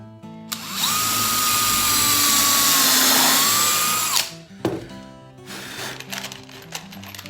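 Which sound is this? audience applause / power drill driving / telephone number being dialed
power drill driving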